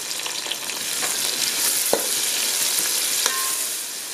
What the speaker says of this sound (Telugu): తర్వాత కరివేపాకు, పచ్చిమిర్చి వేసి వేగనివ్వాలి